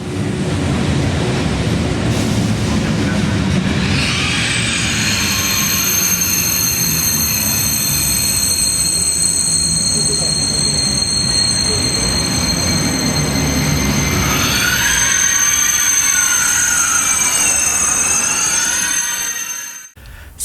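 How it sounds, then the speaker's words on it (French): A TGV high-speed train from Milan-Garibaldi to Paris-Gare de Lyon pulls into the station, a loud rolling rumble with long, high wheel squeals and brake screeches that swell near the end before stopping. "Notre TGV, en provenance de Milan-Garibaldi et à destination de Paris-Gare de Lyon, entre en gare"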